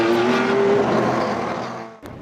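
Race cars at Turn 1 of the rough Sebring circuit during a GTP race, with a loud close engine roar that fades as the cars pass and then drop away.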